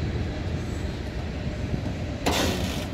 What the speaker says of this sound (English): May dumaan na train. Cargo train.